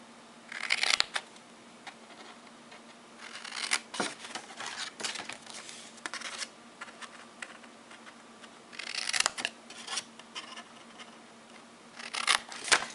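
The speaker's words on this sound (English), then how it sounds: "where those scores are, I'm going to take and cut the cardstock." Scissors snip through scored cardstock in several short bursts of crisp cutting and paper rustle, close and fairly quiet, separated by pauses with faint handling sounds.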